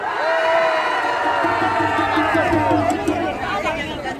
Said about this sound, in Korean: 박수 한번 크게 보내주세요.